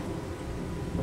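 Rain falls with a rumble of thunder in a farming video game, a dense, continuous wash of noise at fairly high level with no voices.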